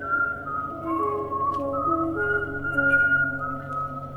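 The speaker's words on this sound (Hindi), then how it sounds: "लेकिन चलते चलते उसने पीछे से फिर सीटी की आवाज सुनी।" A person whistles a slow, wavering tune behind someone in a horror ghost film, the clear tone drifting up and down alone over a low, quiet background.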